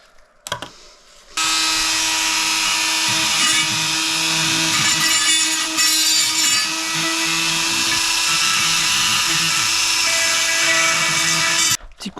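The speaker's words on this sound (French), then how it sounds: "Petit coup de Dremel là pour que la surface soit propre" Dremel rotary tool cleaning up a metal surface, a loud high-pitched whine that starts after a brief pause, runs steadily for about ten seconds with slight load changes, then stops abruptly.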